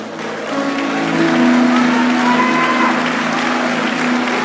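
A church congregation claps continuously, a full, loud wash of applause swelling after the first half second and holding steady under faint sustained tones and crowd noise.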